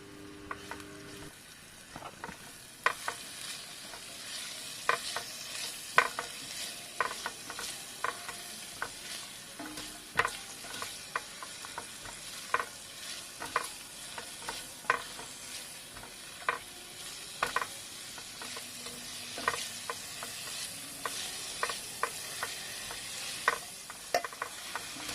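Sliced onions frying in a pan make a soft, low sizzle beneath repeated utensil scrapes and taps as they are stirred. The sounds are faint and intermittent with no speech.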